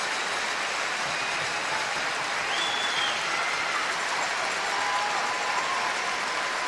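Sustained applause from an arena crowd at a women's curling championship, greeting the Korean team, Olympic silver medalists; a steady, even wash of clapping with no break, a faint tone drifting over it.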